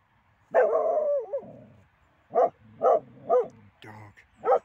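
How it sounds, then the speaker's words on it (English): A dog barks in several short, loud bursts spread over a few seconds, with one longer opening bark and gaps of quiet between the later ones. "Dogs."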